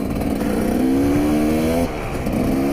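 Traffic on a main road, with a loud nearby engine holding a steady tone, then easing off and picking up again in a brief, close pass.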